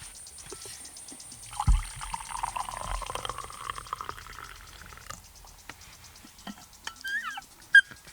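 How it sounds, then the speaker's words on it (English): Coffee pours into a cup in a steady liquid stream lasting a few seconds, with a couple of soft knocks and faint clinks around it, fairly quiet and close, no voices. "Pouring his 12th cup of coffee for the morning."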